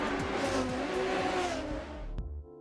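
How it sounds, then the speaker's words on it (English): A Ferrari 599 GTO V12 with quad exhaust revs hard toward the red line, a loud, rising and falling engine howl that cuts off sharply near the end. "the engine generate organic noises as the RPMs reaches the red line"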